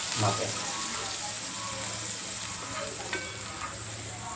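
Chutney goes into a hot pan of tempered yogurt, sugar and spices while rotlo is being prepared, sizzling and frying in a steady hiss. Occasional stirring clinks sound close by.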